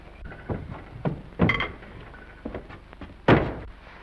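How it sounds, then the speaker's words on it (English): A door closing in a 1930s film scene: several soft knocks and bumps, then one firm, louder thud near the end, close by, with no talk over it. "Will you close this door, please?"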